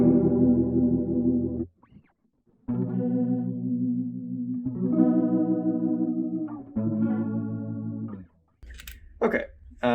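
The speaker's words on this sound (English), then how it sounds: "it's essentially like an amplifier with a speaker that spins around to give it this swirly sound" Guitar chords played through a swirling, warbling rotary-speaker effect, sustained phrases with brief gaps, close and fairly loud.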